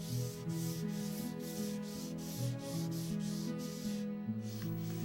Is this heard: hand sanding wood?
yes